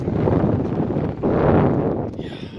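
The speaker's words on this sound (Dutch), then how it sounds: "Hoor dus de wind." Wind blows hard outside a bathroom window, a loud rushing roar that surges and gusts close to the microphone with no speech.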